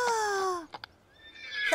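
A horse whinnies with a long, descending neigh in a Teletubbies episode, followed by a couple of short knocks and a rising squeal at the end.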